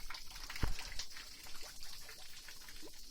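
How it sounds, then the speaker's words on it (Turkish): Water from a waterfall spills into a pool at the foot of Tahtalı Mountain, a continuous splashing, trickling rush with scattered louder splashes and a brief sharp knock near the start, no voices. "Tahtalı Dağı'nın eteklerinde böyle bir şelale havuzumuz var."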